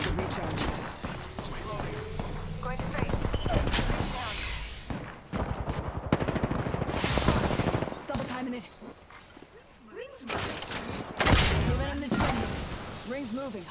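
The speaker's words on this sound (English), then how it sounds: "I am taking fire, friends." Gunfire from the Apex Legends video game, rapid automatic bursts and heavy shots rattling nearly nonstop with brief lulls, loud and close, with game effects and voices over the top.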